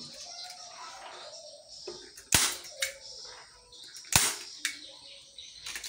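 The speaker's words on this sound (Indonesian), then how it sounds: "Peralatannya staples tembak menggunakan pelurunya 8 mili." A staple gun shoots 8 mm staples into a motorcycle seat cover in a workshop, giving two sharp, loud snaps a couple of seconds apart, with faint background chirps and rustling between them.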